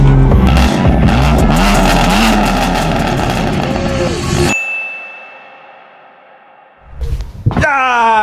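BMW F80 M3 with a big straight pipe, its engine and exhaust loud and close, a dense roaring burst for several seconds that cuts off abruptly, leaving a faint tone, followed by short revving bursts near the end.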